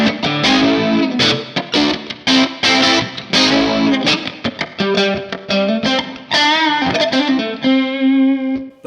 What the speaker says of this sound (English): the chorus effect fits a lot better when you're playing chords